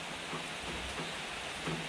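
Rain falls with a soft, continuous hiss, faint and even throughout, with no voices over it.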